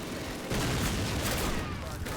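Gunfire in the Call of Duty video game crackles as a dense, loud burst of rapid shots filling a brief moment of battle.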